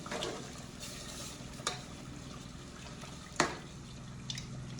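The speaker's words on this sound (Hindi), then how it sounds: "चलिए चिकन भी डाल देते हैं सारा इसमें। अब इसको थोड़ा सा पकने देते हैं" Chicken pieces cooking in gravy in a pot over low heat, a quiet steady simmer and sizzle broken by a few sharp stirring scrapes and clinks against the pot.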